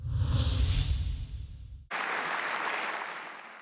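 Applause from the 577 members of France's National Assembly after a tight vote, a dense, loud wash of clapping that briefly dips and then resumes at full strength.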